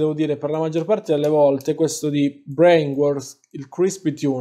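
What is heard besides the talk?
No everyday noises stand out.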